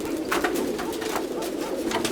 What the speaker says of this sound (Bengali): ভাইয়ের কিন্তু হাতে এসে কবুতরটা খাবার খাচ্ছে